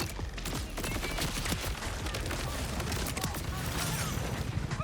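Dense enemy gunfire in Borderlands 4, a constant rattle of shots and impacts close by, loud and unbroken for the whole stretch.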